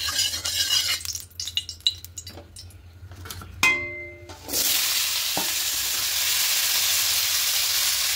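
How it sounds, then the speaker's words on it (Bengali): Small diced potatoes fry lightly in vegetable oil in a wok. Clinks and scrapes of utensils against the pan come first, then a loud, steady sizzle takes over and holds close up with no talk. "তেল দিয়ে এখানে আমি প্রথমে আলুগুলোকে একটু হালকা করে ভেজে নেব।"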